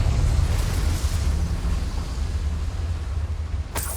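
A Confringo blasting spell exploding in Hogwarts Legacy, a loud, deep roaring blast that rumbles on steadily, ending with a sharp crack near the close.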